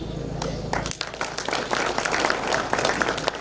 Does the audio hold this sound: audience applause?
yes